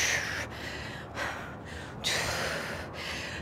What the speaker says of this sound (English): exhale as you come up